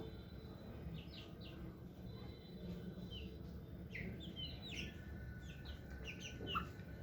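Young chicks give faint, scattered high peeps in short bursts over a low, steady background hum, with no voices.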